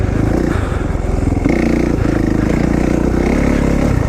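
A KTM dirt bike engine runs hard at an off-road OHV trail area, a loud, steady rasping drone that holds close and continuous throughout with slight rises in pitch.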